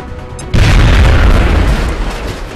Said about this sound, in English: I think it's going to be a nade in this